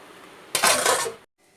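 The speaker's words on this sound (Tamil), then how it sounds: "ஒரு அஞ்சு நிமிஷம் அப்படியே மூடி வச்சிடலாம்" A metal lid clatters onto a pot of sambar in a home kitchen, one short bright clang and rattle lasting under a second, then quiet.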